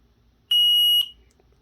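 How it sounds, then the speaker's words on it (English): A single sharp, high electronic beep from a homemade random target designator signalling a completed shooting stage, about half a second long, loud and clean in an otherwise quiet room. "beeps to let you know that your stage is done."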